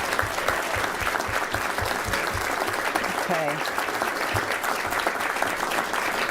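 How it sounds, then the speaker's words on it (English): A crowd keeps clapping for honorees at a journalism hall of fame ceremony, steady dense applause with a few louder claps, and someone briefly speaks into a microphone partway through. "Let's give another round of applause to all of our honorees tonight."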